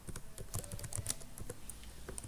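Rapid, steady typing on a computer keyboard while working in MS Word, a close run of light key clicks with no talk.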